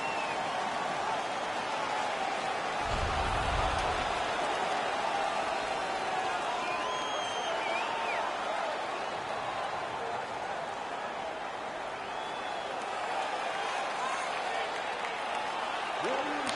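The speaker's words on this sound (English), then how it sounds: "The crowd is all over them right now." Hockey arena crowd at a Nordic Warriors home game, a steady roar of cheering and noise filling the rink throughout, loud and continuous with a brief low thump early on.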